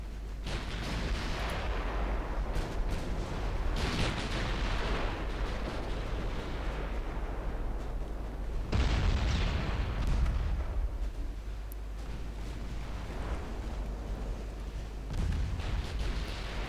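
Secondary naval guns fire at destroyers in Ultimate Admiral Dreadnoughts, a steady rumbling wash of gunfire punctuated by several louder booming salvos, no talking.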